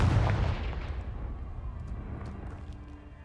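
A Confringo spell blast in Hogwarts Legacy goes off as a loud, deep booming explosion up front, then trails away into a long rumbling decay over a few seconds, with no voices.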